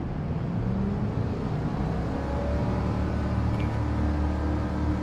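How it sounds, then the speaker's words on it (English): Loud, steady car engine drone from a racing video game, with a continuous low rumble holding at the same level throughout and no talking. "So the car engine is quite loud."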